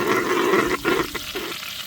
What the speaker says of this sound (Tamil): எண்ணெய் நல்ல மிதமான சூட்டில் இருக்கும்போது நறுக்கி வச்ச வெங்காயத்தாள் அப்படியே பொறுமையாக சேர்த்துங்க